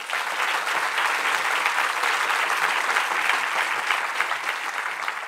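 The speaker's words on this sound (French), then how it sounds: "nos deux intervenantes que je vous demande d'applaudir, Marine de Guglielmo-Weber et Najat Vallaud-" An audience applauds steadily for two speakers being introduced at a French talk on climate migration, a dense, even wash of clapping from many hands throughout, with no voices over it.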